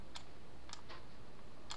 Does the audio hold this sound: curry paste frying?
no